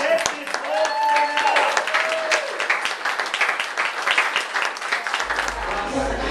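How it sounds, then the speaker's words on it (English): An audience at an art show award presentation breaks into a round of applause, a dense patter of clapping at moderate distance with people talking over it. "I'd like to have everybody give a round of applause for Carol Dunn."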